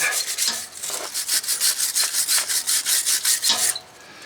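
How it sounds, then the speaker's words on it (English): A wire brush scrubs the clutch plate mounting surfaces on a 2007 Toyota Tacoma 2.7 with a five-speed manual, making a quick, even run of about fifteen rasping back-and-forth strokes up close before stopping. "we're going to wire brush around all of the areas where the plate is going to sit"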